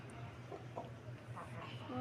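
Two hens give soft, scattered clucks nearby while someone talks over them.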